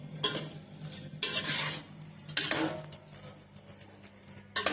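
A spoon scrapes and stirs tomato chutney with oil in a metal pan, making bursts of clinking, scraping strokes at an uneven rhythm with short pauses between them, close and fairly loud, with no voices.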